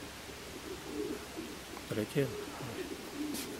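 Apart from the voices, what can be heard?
pigeons cooing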